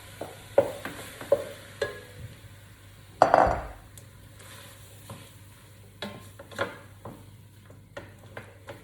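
Chopped fresh tomatoes hit a curry pan with a sharp burst of sizzle, surrounded by scattered utensil knocks and stirring scrapes over a quiet background hum.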